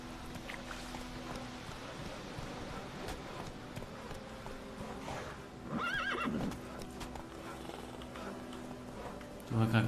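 Roach, the horse in The Witcher 3, trots with steady clip-clopping hooves and lets out a clear whinny about midway, with a short louder burst of game sound right at the end.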